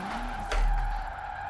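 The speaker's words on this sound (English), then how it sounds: "we are managing to drift one-handed a lot better than actually thought" Car drifting in a racing video game played on a 900-degree steering wheel: a steady engine tone with a brief tire skid swelling midway, no talking.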